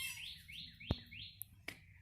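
Young giant frizzle rooster giving a series of soft, repeated rising chirps, fairly faint and close, with a couple of sharp clicks between them and no talking.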